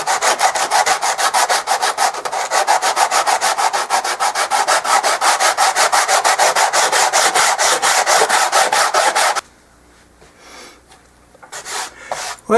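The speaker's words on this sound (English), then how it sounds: "We're working with a little 80 grit sandpaper." Steady rapid back-and-forth scraping of 80 grit sandpaper on the wooden braces of a Silvertone acoustic guitar, loud and close for about nine seconds, then stopping to quiet rustling.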